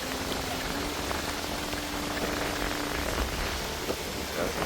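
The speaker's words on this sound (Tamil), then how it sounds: "சரியான மழை பெய்து கொண்டிருக்கு" Steady heavy rain pours down outdoors in strong wind at a war memorial cemetery in Mullaitivu, a dense unbroken hiss of drops lasting throughout with no voices.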